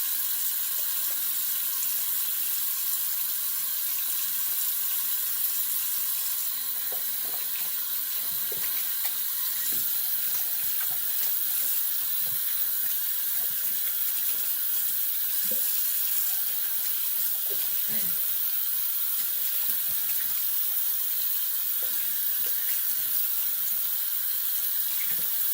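A razor is rinsed under a steadily running tap, the water streaming loud and continuous into a sink for the whole stretch, with small clinks and splashes scattered through it.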